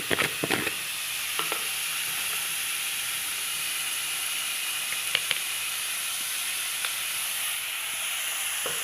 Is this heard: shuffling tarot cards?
no